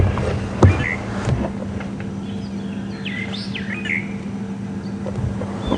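Fork-tailed drongos give scattered chirps and short whistled calls, a couple of brief knocks early on, all over a constant low safari vehicle engine hum at Djuma Game Reserve.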